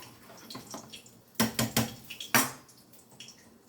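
A spoon scrapes and knocks against a pot of Bengali beresta khichuri with cauliflower and potatoes, in a handful of sharp metallic clinks in quick succession over a quiet kitchen background.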